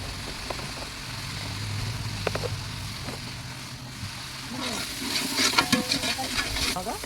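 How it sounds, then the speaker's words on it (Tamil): Ground mint and coriander paste sautéing in oil for biryani, with a soft constant sizzle and occasional stirring clicks that grow busier and louder toward the end. "இது அரைச்சி வச்சுட்டு இதையும் நல்லா அதோடு சேர்த்து வணக்கணும்"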